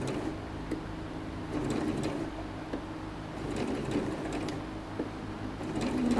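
A sewing machine makes short bursts of just a couple of stitches at a time, faint and close, with brief pauses between the runs.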